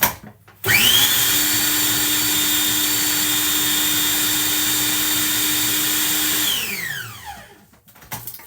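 A food processor mixing scone dough with caster sugar, a loud motor whirring up quickly, holding a steady high whine for several seconds, then winding down to a stop.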